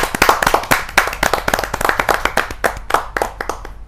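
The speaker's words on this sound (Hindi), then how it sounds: "जोरदार तालियों के साथ हसमुख चतुर्वेदी जी का हम स्वागत करते हैं" Loud applause from a poetry-gathering audience welcoming a poet to the stage, dense rapid clapping with sharp individual claps throughout, no voices over it.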